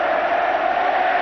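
A stadium crowd at a 1983 England versus New Zealand All Blacks rugby match roars in a steady, dense wash of cheering, continuous and unbroken across the moment.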